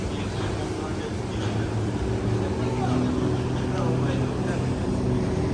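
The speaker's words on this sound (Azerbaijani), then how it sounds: "Qayıq da gəldi." A boat arriving on the water in Australia, heard as a low, droning engine hum under a broad wash of water and wind noise, with faint voices in the background.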